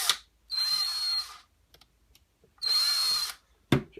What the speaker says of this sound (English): Drill some of the paint off in there so I can get some brass ran through there